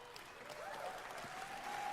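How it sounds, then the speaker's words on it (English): A crowd at the Bethesda E3 2019 presentation gives steady applause that comes through faint and distant, with a few cheers rising above it. "Just stop clapping."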